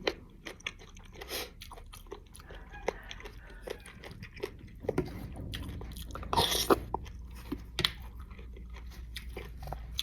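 Someone chews a mouthful of rice noodles in fermented fish sauce with salmon, making close, moist crunching and biting sounds in irregular bursts, with a few soft murmurs between bites.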